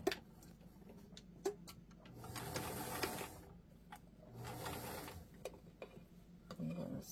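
A sewing machine stitches down a button, whirring in two sustained bursts of rapid mechanical clatter between sharp ticks and pauses, close and fairly quiet, with a voice speaking lightly in the gaps.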